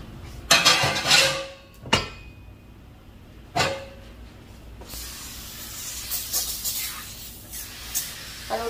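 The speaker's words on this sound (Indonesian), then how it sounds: "Ini buat membersih minyak. Saya semprot-semprot dulu terus didiamkan." Grease cleaner is sprayed in a home kitchen as repeated short hissing bursts, some with faint clinks of dishes or utensils, followed by a steadier softer spraying and wiping hiss, close and fairly quiet.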